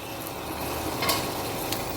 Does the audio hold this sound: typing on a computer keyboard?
no